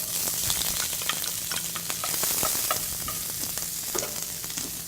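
Lamb cooking with garlic and onions in olive oil in a pan, a continuous close sizzle broken by frequent clicking stirs and spatula scrapes, no voices.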